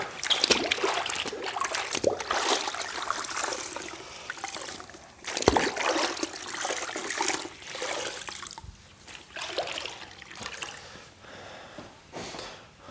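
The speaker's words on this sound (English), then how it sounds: "You can see my sponge is a little dingy, but it releases really well in the bucket" A dingy sponge is rinsed in a bucket of rinseless car-wash solution, with continuous close sloshing, splashing and trickling water and brief louder plunges, no talking.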